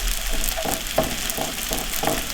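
Bread cubes frying in butter for homemade croutons give a steady, close sizzle, with soft scraping stirs recurring every half second or so.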